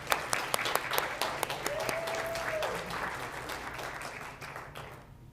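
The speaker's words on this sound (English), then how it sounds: "One more round of applause." Audience at a school board meeting claps, with a few sharp individual claps at the start and a round of applause that fades out near the end; moderately quiet.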